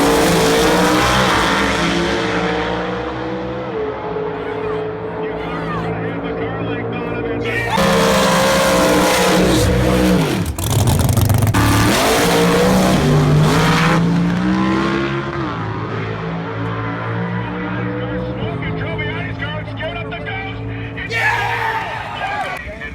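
A Nitrous Pro Street drag race car at Atlanta Dragway, loud and sustained engine roar rising and surging with revving, with talking over the engine noise.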